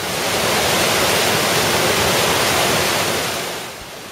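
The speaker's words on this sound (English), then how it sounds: "The water flows from the Loup Riverside through these gates and out into the canal." Water from the Loup River pours steadily through the intake gates into the power canal, a loud, continuous broadband rush that holds even throughout and eases slightly near the end, with no voices.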